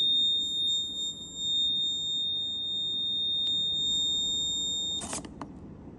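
A fire-alert buzzer on a smart school system sounds a steady piercing electronic tone for about five seconds, then cuts off, followed by a brief click and rustle.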